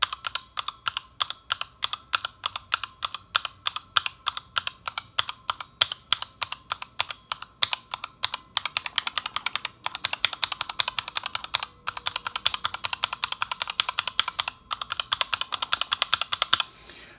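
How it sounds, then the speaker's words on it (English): Typing on a keyboard fitted with Razer keycaps, alternating between PBT and ABS caps along one row, makes a steady run of close, crisp clacks with brief pauses and a slightly thumpier stretch in the middle. "the PBT caps have just a slightly lower kind of thumping sound"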